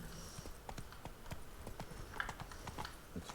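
Horse hooves clip-clop in a steady trotting rhythm in The Witcher 3, close and fairly quiet, with soft creaks of tack and no talk.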